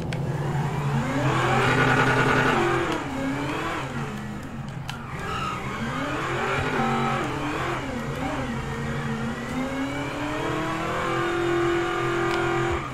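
A car in a video game drives with its engine revving up and down and tires skidding, a continuous, close whine of shifting pitch lasting throughout.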